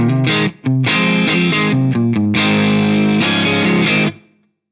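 Heavily distorted electric guitar through a Marshall JTM45-style amp model playing chunky chords and short riffs with brief gaps, loud and close, ringing out on a final sustained chord.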